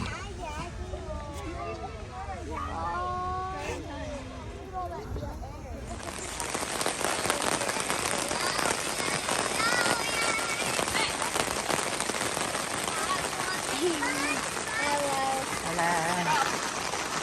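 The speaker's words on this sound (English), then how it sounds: "Us hanging out in the tent while it's pouring rain, playing and singing and listening to the rain." Heavy rain pours onto a tent at a summer campsite near Yellowstone, beginning as voices talk and sing, then rising abruptly into a dense, loud, steady patter that continues to the end with faint voices underneath.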